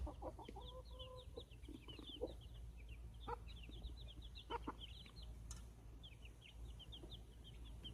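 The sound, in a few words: young chicks peeping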